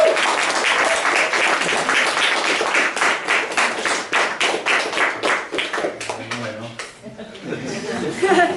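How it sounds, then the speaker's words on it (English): An audience applauds to welcome a reader at a novel reading event, a dense burst of clapping with some laughter that fades out near the end before a voice begins. "More applause."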